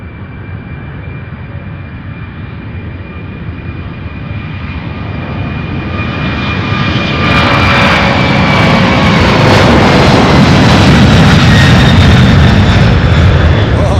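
A jet airliner departs Louisville International Airport near the UPS Worldport, its engine roar building into a loud, sustained, close rumble as it climbs away.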